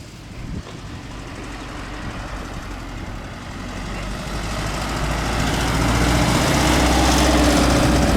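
A 1973 VW Thing engine drives around nearby, a steady low air-cooled drone that grows louder over several seconds as the car approaches, with no talk.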